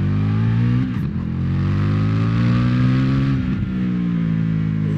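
An Indian FTR 1200 motorcycle revs hard and accelerates at night in city streets, a loud, close engine roar whose pitch climbs, dips briefly at gear changes, then climbs again.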